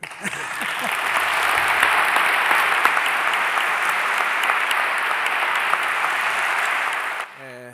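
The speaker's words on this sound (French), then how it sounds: "Je crois qu'on peut l'applaudir." An audience applauds at an honorary doctorate ceremony, a full, sustained roll of clapping from many hands that holds steady for several seconds before cutting off abruptly at the end.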